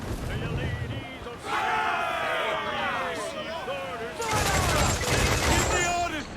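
Ship cannons firing in a naval battle in Assassin's Creed IV: Black Flag, a rumbling barrage of booms mixed with shouting crew voices throughout.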